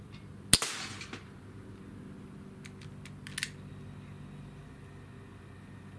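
A single sharp crack of a Barra Schofield .22 caliber pellet pistol firing, close and loud, with a short ringing decay, then a couple of faint clicks in an otherwise quiet setting.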